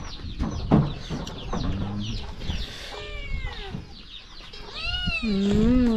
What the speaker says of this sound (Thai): แมวก็เยอะ